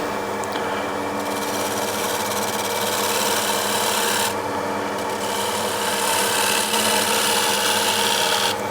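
A hand scraper with a freshly turned burr shaves across wood in a steady, continuous rasping scrape, close and fairly loud throughout with slight variations in pressure.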